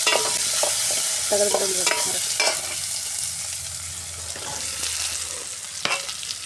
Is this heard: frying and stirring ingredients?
yes